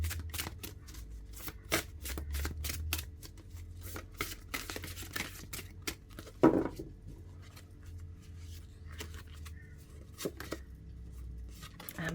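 Tarot and oracle cards, including an Empath's Empowerment deck, are shuffled and drawn during a pick-a-card reading, giving a steady run of crisp riffling and sliding snaps with one sharper slap midway, close up and with no talk.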